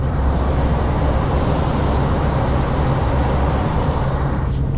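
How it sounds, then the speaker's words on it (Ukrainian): A heavy truck descends a steep hill at high speed, its engine at full power and the turbocharger blowing, heard from inside the cab as a loud, continuous, steady broadband roar with no talk. "Чути, як турбіна дує, ану."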